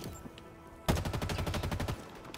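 Automatic gunfire in the video game Halo Infinite: a sudden rapid burst of shots after a quiet lead-in, fired in quick rhythmic succession and fairly loud.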